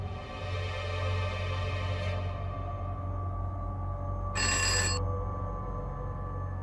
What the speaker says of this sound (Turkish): Amca, amca telefon.